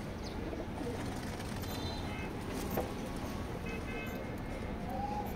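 Racing pigeons in a loft cooing softly, with faint, scattered coos and light rustles under a steady broadband hiss, plus a few chirps far in the background.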